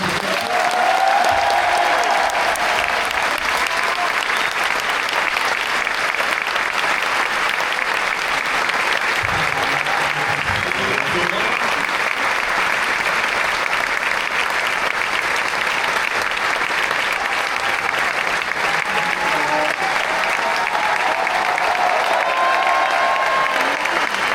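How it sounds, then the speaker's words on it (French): Sustained, dense applause from a crowd of about 2,500 people, steady and loud throughout with occasional cheers mixed in. "C'est Thomasio, un max d'applaudissements."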